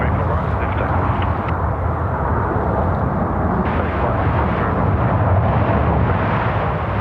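An Airbus neo jet airliner taking off at Sydney Airport gives a loud, sustained broadband engine roar that rumbles on steadily, heard from outside at a plane-spotting spot.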